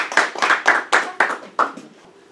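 Several hands clapping after an evening seminar talk on hormones, about six distinct, loud, close claps in a quick irregular rhythm that taper off into a quieter tail.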